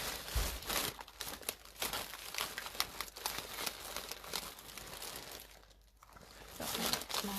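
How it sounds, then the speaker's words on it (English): Close paper and plastic rustling and crinkling continues steadily while artificial craft flowers are sorted through for a mixed-media butterfly canvas, with a brief quieter gap near the end. "Sorry, rustling, I'm looking through the flowers."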